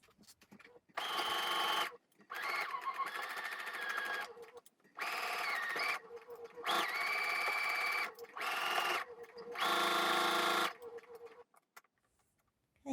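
A sewing machine stitches a dress cuff in several separate bursts of rapid whirring, each lasting a second or two, with quiet pauses between runs.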